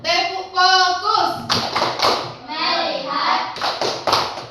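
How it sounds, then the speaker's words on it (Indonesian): Elementary classroom group clapping the 'tepuk fokus' routine, a few sharp rhythmic clap bursts alternating with children's chanted voices, near and fairly loud. "Tepuk fokus."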